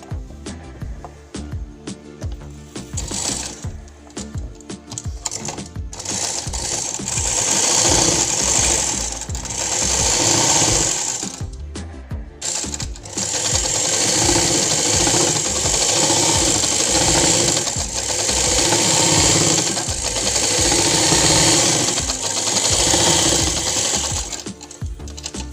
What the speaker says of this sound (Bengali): এবারে আমি চাপ সেলাইটা দিয়ে নেব।